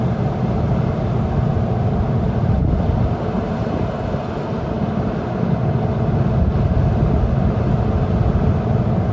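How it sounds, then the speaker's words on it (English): A John Deere 9500 combine runs during a corn harvest, its troubled auger adding to a steady low mechanical rumble that is loud and continuous throughout. "He's having a little bit of trouble with the auger again."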